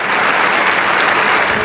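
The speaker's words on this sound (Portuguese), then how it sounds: "Ao fim do rosário, aplausos." A large crowd of Catholics gathered in St. Peter's Square applauds at the close of a rosary for Pope Francis, a dense, loud, continuous roar of clapping throughout.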